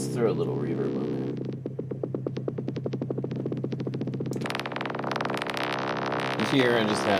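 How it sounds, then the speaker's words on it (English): A modular synth patch with a vocoder effect and added reverb pulses as a rapid stream of buzzy, distorted clicks over a steady low hum. Partway through it swells brighter and denser, sustained and loud throughout. "And let's throw a little reverb on there."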